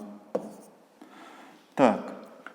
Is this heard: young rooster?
no